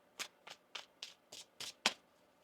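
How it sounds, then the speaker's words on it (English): Tarot cards are shuffled in seven quick riffling bursts, evenly spaced and close by, with the last one sharper and louder; no talking. "One more shuffle here."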